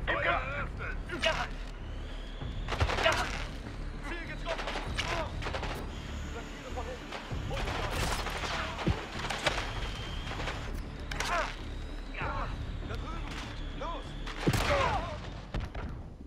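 Gunfire in Call of Duty: Black Ops 6, with scattered shots and thuds through a busy battle mix under game voices, loudest near the end.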